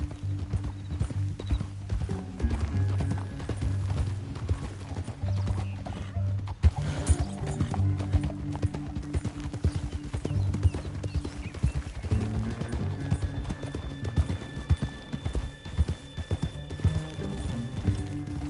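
Steady clip-clop of horse hooves trotting along in Red Dead Redemption 2, with an occasional snort or whinny and a low rumbling backdrop, no talking.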